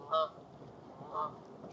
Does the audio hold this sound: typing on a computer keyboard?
no